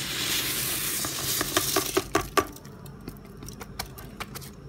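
A spoon scrapes and knocks against a pot of boiling biryani rice in a series of sharp clinks over a soft bubbling, then the stirring slows to a few lighter taps.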